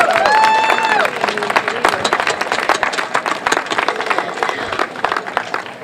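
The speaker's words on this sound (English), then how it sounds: "a big round of applause for Donna" A crowd at an outdoor racial justice march in Falmouth claps and cheers for Donna, a dense burst of applause that starts loud and gradually thins and fades over several seconds, with a few whoops early on.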